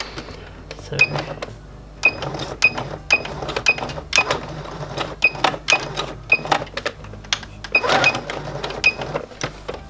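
A home sewing machine stitches small doll-clothes fabric pieces for a vintage 1960s Barbie outfit, running in short bursts that stop and start repeatedly, with sharp clicks and a faint rattling whir between pauses.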